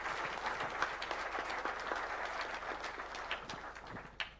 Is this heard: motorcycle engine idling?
no